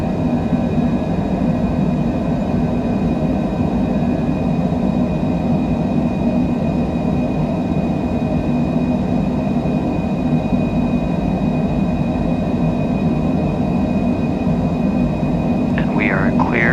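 An airliner climbing out after takeoff from LAX with its landing gear retracting, a loud steady cabin roar of engines and airflow that holds constant throughout with a faint brief sound near the end.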